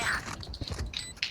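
Reloading a weapon in a first-person shooter game: a short run of mechanical clicks and ratcheting clacks over about a second, fairly close and distinct, with a sharp snap near the end.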